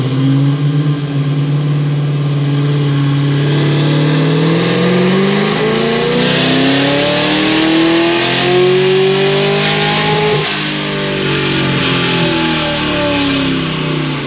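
Car engine running on 40% ethanol with a failing stock fuel pump, revving loudly and steadily climbing in pitch before stumbling and breaking up near the end, close and without talk.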